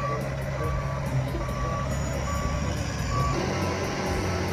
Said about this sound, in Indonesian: kalau yang ini truk pasir teman-teman